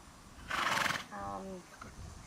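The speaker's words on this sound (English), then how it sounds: "Gene has brought his wife's horse today" A horse gives a loud, close whinny lasting about half a second, followed by a falling, harmonic neigh, with soft background noise and faint voices nearby.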